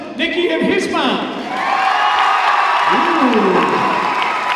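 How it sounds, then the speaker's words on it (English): A pep rally crowd applauds, cheers and whoops in a loud, continuous swell, with shouted voices rising above the clapping throughout. "By applause, Nikki and his mom."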